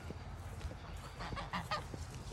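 Farmyard geese honk over a low, steady background during morning chores on a small homestead, the calls coming in a few short bursts at moderate distance with no talk.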